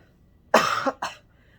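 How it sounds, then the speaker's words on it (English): Two harsh, close coughs in quick succession, the first longer and raspier, the second short and sharp, with quiet around them. "I have like an itchy cough and it's terrible"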